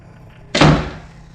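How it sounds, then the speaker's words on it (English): A door slams shut hard in a horror story, one loud heavy thud with a brief rumbling tail, standing alone against a quiet backdrop. "pushed me into the room with force, and closed the door behind me"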